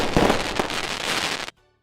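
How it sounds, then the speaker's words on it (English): Fireworks sound effect played during a live trading card break stream: a loud, dense crackling burst with a couple of sharper pops, lasting about a second and a half before cutting off abruptly to silence. "I don't know if it's bells, but fireworks."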